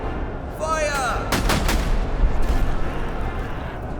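Loud musket and artillery volley in a Frederick-era battle in the game Master of Command: a sharp burst of overlapping cracks and booms, then a rolling rumble that lingers and fades.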